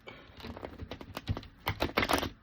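A deck of cards is riffled and shuffled up close, a rapid patter of crisp flicks and clicks building into denser bursts toward the end, with no talking.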